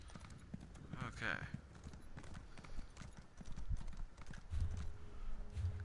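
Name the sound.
horse hooves in a video game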